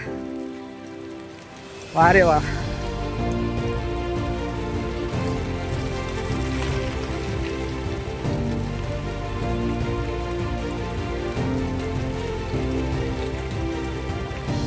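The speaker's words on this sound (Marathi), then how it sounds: "हा पाऊस" Continuous rain falling on a surface during a fort trek, close and steady, while a person speaks briefly over it near the start.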